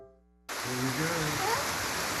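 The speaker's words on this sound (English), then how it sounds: "We're gonna go out there in the rain." Rain falls outdoors as a sudden, steady broadband hiss that starts abruptly after a quiet moment, with faint voice-like tones drifting through the downpour.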